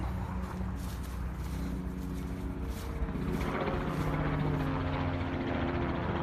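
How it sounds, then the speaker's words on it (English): A steady low rotor drone of a helicopter passing overhead, continuous and fairly loud throughout, with no talking. "There's a helicopter."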